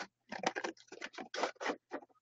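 Scissors snip through card paper during a card-making class, giving a quick run of crisp, close cuts in irregular short bursts with brief pauses between them.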